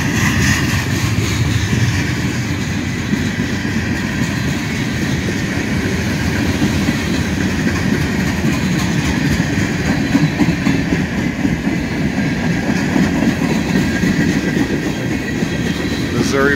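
A Union Pacific freight train rolls steadily past up close with a loud, continuous rumble and rattle of wheels over the rails as gondola cars go by.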